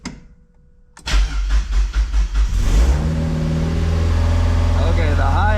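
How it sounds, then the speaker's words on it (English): A 1.8-litre high-compression NB Mazda Miata with new dual-tip exhaust and air intake cranks with rhythmic starter chugs, fires up, then settles into a loud, steady, fairly high idle close by. "let's start this baby up and see how she sounds with the new exhaust and new intake"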